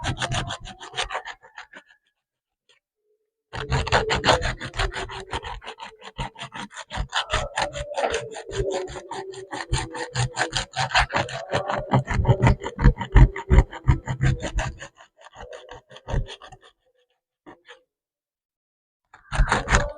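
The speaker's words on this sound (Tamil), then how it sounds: "நம்ம இப்போ கட் பண்ணி வச்ச பீஸை இந்த பீஸோட சைடு ஓரத்தை நல்லா இந்த மாதிரி தேய்ச்சி எடுத்துக்க போகிறோம்." The edge of a cut coconut shell piece being rubbed smooth for a lotus flower craft: rhythmic, gritty rasping strokes in quick succession, close and loud, with a few pauses.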